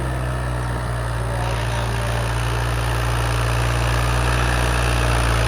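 A heavy diesel tractor engine, fitted with a 9-foot rotavator, idles steadily with a deep, constant rumble and low hum, running without a break throughout and close by.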